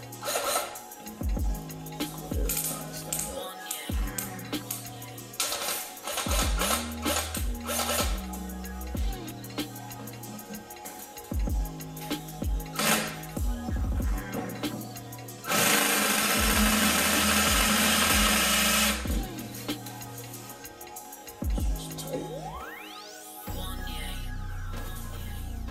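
A 3/8 drill bit boring into a steering intermediate shaft, repeated bursts of power drilling with stops and restarts, one long harsh grinding stretch near the end, close and loud with no voices.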